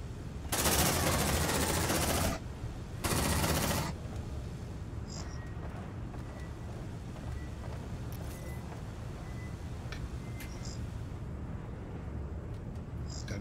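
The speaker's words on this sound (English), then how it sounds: "Shots make noises." Video game gunfire from Aliens: Dark Descent, two loud sustained bursts of rapid automatic fire from a pulse rifle, followed by quieter ambient game noise with faint distant clicks.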